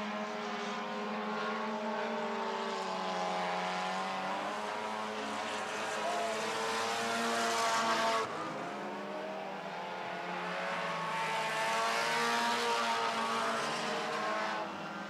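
Four-cylinder stock cars race around a track, their engines whining in rising and falling waves as packs sweep past, sustained and fairly loud at a moderate distance.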